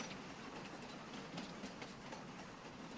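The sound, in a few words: BNSF train passing in the video game Farming Simulator 25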